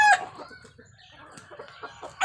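A Boston Roundhead gamecock gives short, sharp clucking calls, a loud burst at the start and another at the end, with quieter scratchy fowl noises between.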